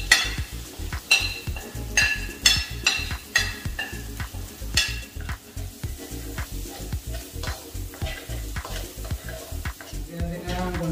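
Cooked rice sizzling in a hot pan with garlic and onion, stirred in a steady rhythm of repeated scraping strokes over a constant fry hiss, close and moderately loud.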